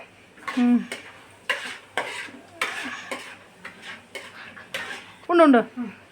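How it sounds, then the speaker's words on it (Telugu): A spatula stirring ingredients frying in a pan for lemon rice, with scattered scraping and clinking strokes against the pan over a faint sizzle, while a voice speaks intermittently. "ఇప్పుడు మనం గెంటితో కలుపుదాము."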